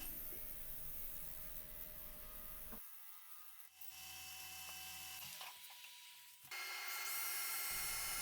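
A 3.5-inch dimple sanding disc rubs across a turned locust wood bowl, giving a steady, quiet abrasive hiss that shifts in tone as pressure and contact change, with no talking.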